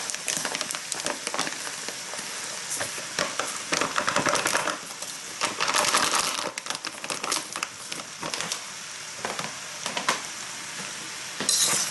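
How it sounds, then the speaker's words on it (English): Rice being stir-fried in a hot pan for homemade fried rice, with continuous sizzling and frying crackle, scraping and tossing strokes of a spatula recurring throughout, close and steady with no talking. "I'm going to start introducing the rice now"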